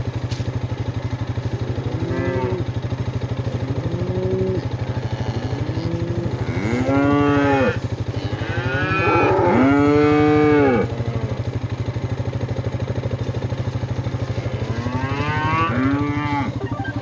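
Cattle lowing in a calving pasture, a series of drawn-out moos from several animals at varying distances, some short and some long and louder, over a constant engine-like drone.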